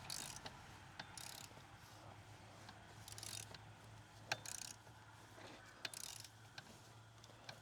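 Socket ratchet working on the PCV valve of a Subaru Forester, giving quiet clicking and scattered sharp metallic ticks over a steady low hum, with no talking.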